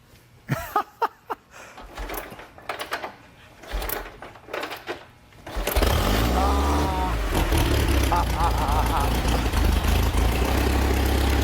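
A motorcycle at a collection of bikes kept on battery tenders is started up, then settles into a loud, steady idle close by, after a quieter stretch of handling noises and brief sounds.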